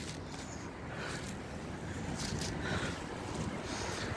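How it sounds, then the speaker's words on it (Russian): Outdoor wind rushes steadily across the microphone as someone walks between hospital buildings, a low buffeting roar that swells slightly toward the end, with no talk. "Ну, ветер, сегодня ветерок."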